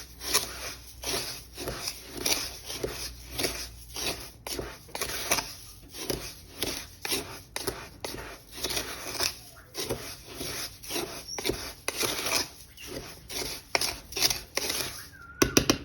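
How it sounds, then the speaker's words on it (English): Dry StoneCast powder mixture being stirred, a steady run of scraping, rubbing and light clinking strokes in a close, quiet repeating rhythm with no voice over it. "Now we need to add all of the powder mixture, which I'm just going to give a stir to."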